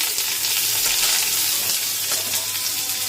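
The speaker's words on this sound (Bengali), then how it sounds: "এবার এর মধ্যে জাস্ট অল্প করে একটুখানি পেঁয়াজ দিয়ে ভাজবো" A small amount of onion sizzling in hot oil, a steady, dense, close hiss with faint stirring, continuous and even throughout.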